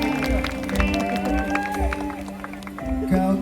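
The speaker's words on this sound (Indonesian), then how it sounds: "Tepuk tangan dong." A concert crowd at a show in Makassar claps in steady rhythmic beats, loud and close, while music plays along and voices sing and talk over it throughout.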